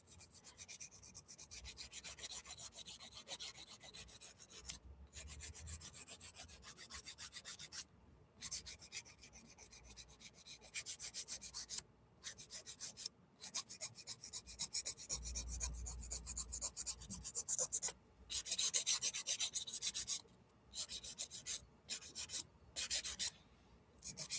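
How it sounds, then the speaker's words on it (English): A buffer scrubs across a nail surface before a nail application with soft, continuous rubbing strokes. The faint rasping runs on with only brief pauses. "you're just going to buff the surface to make sure that it's all ready to go"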